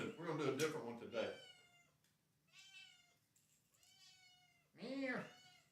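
A cat meows several times in short separate calls with pauses between, close to the microphone, after a stretch of nearby speech.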